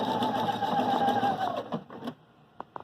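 A Viking Sapphire 930 sewing machine stitches an appliqué in mirror-image mode, a close, steady mechanical whir that runs for about a second and a half, then stops, followed by a few faint clicks.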